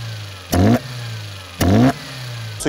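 A car engine fitted with individual throttle bodies blips twice, each sharp rev rising and falling with a loud, raspy intake roar, then settling back to a steady low idle between bursts.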